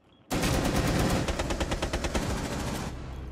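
Rapid automatic gunfire from a Rainbow Six Siege match, a loud sustained burst of rattling shots that carries on for nearly three seconds with no talk over it.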